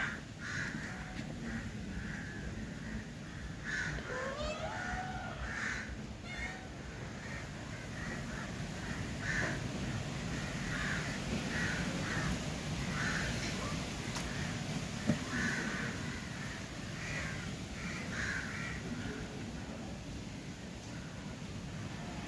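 A crow caws several times, one call after another, at a moderate distance over a steady background of wind-like outdoor noise.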